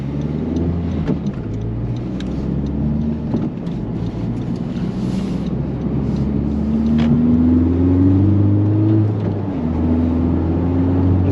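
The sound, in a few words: car accelerating on the road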